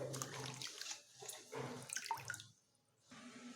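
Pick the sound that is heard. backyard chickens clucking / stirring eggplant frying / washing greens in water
washing greens in water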